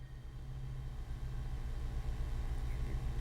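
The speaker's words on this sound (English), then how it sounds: "You start the car and rev the engine, hoping that the roaring noise will drown out even your own thoughts." A car engine in a video game gives a steady, low, droning rumble, fairly quiet and even throughout, without any clear sharp rev.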